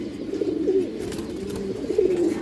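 Soft repeated cooing from pigeons in a breeding loft of fancy pigeons, several overlapping low warbling calls continuing steadily at moderate closeness with no talk.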